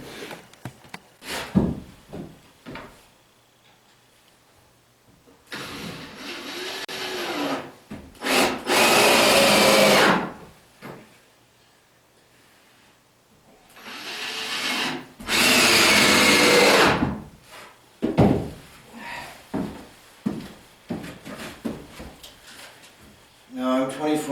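In a wood shop, a power saw cuts wood framing pieces in two long, loud, whining bursts, separated by clattering handling of boards and quieter stretches of movement.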